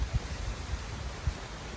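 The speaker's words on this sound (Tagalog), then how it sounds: "malakas yung ulan pero may ano tayo dito" Heavy rain falls outdoors at a fishing spot under trees, a steady broadband hiss with a few soft low thumps, moderately quiet and continuous with no voices.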